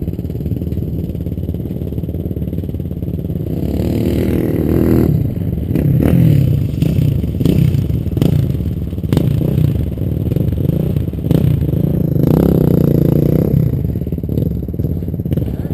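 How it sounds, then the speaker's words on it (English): A dirt bike rides across the Coos Bay sand dunes, its engine droning and revving steadily nearby under heavy wind rumble, with rattles and scrapes from the vehicle carrying the recorder. "Watch the dirt bike down here in the next dune to us."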